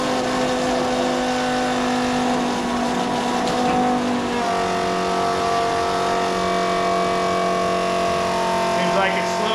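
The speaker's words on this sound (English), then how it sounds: "Doesn't exactly sound like the pump likes that for sure, but it's sure pumping at a good clip." A cordless transfer pump runs hard and continuously, its loud, strained motor whine steady and close, then dropping slightly in pitch partway through as the load changes.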